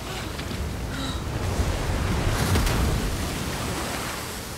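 Ocean surf in the video game Senua's Saga: Hellblade II, a steady broadband wash of waves and wind that swells slightly mid-clip and holds at a constant, fairly loud level with no voices.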